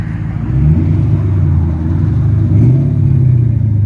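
A loud 1996 Ford Mustang Cobra 4.6L V8 rumbles and revs with a deep, throaty exhaust through Flowmaster 40 Series mufflers only and no catalytic converters, swelling twice in a steady idle-and-rev pattern, close by.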